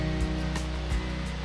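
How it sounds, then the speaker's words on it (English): Small feeder river at Burgess Falls State Park, a continuous broadband rush of flowing water. It is steady and moderately loud, with a few faint low thumps. "All turns into that little feeder river right there."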